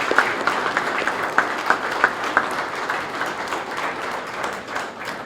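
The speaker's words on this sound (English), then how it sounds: "let's give them a round of applause" An audience applauds St. Paul police officers at a life-saving award ceremony, steady close clapping from many hands that fades slightly toward the end.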